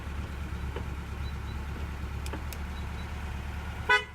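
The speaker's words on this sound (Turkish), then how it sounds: "Kornamız çalışıyor." A short horn blast from a LADA 2104 station wagon under electrical restoration comes near the end, one brief toot over a steady low engine idle, with a few faint clicks before it.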